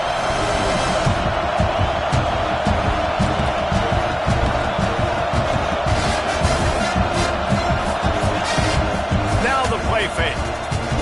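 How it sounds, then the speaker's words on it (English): Loud stadium crowd roaring continuously at a football game, a dense sustained wall of noise with cheering, under a commentator's voice. "Listen to this crowd just shaking the girders of this place"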